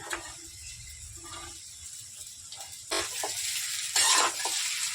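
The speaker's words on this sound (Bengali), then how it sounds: "এবারে আমি সাবুটা দিয়ে দেবো এতে।" Sabudana (sago) stir-fried in a pan gives a soft sizzle broken by scraping strokes of a spatula against the metal, with louder bursts of frying near the end.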